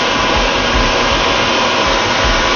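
A grinding wheel cutting into crystal gives off a loud, steady whir with an even high hiss, continuous and unbroken from start to finish.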